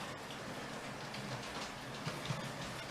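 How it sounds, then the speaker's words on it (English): A model Pendolino train running through a model railway layout, a faint steady rolling rumble with light clicks as it passes. "There's the Pendo coming through."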